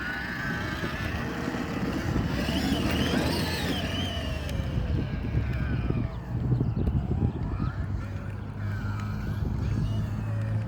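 A farm tractor engine runs steadily with a dense low rumble and broadband roar close to the microphone, pitch shifting slightly as it works, with occasional wind buffeting and brief voices.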